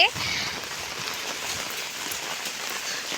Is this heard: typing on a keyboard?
no